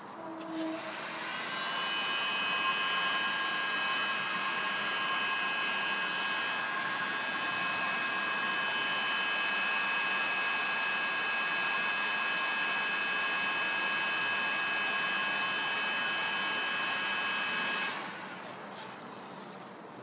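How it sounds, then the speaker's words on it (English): An electric hot air blower runs continuously on a seized rear wiper of a BMW E91 318 touring estate, a steady whining whoosh with a faint high tone that cuts off near the end. "So I'll give the hot air blower a try because I can't get the flame on it because of that rubber."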